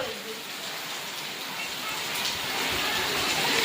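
A steady downpour rushes and hisses without a break, growing slightly louder toward the end, with no voices standing out.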